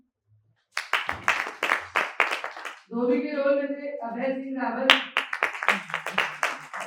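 Audience applause for actors at a theatre festival performance, a steady burst of clapping lasting about two seconds between stretches of someone speaking over a microphone.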